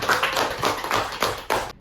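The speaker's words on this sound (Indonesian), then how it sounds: "Boleh tepuk tangan lagi buat kita" A classroom of students clapping for their presenters, a few bursts of handclaps with uneven rhythm, moderately close, ending abruptly after under two seconds.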